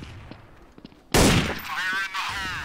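Gunfire in the video game Counter-Strike: after a second of quiet background game sounds, a sudden loud burst of shots erupts and continues as a dense, roaring volley to the end.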